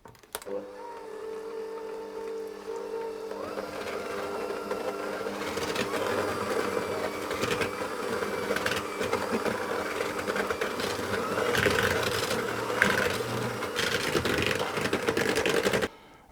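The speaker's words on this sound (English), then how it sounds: "And then I'll cream them together until they're pale and fluffy" A mixer beats butter and sugar together for coconut and kiwi cakes, a steady motor whir that runs continuously throughout at moderate volume with rising busy clatter, and no voices.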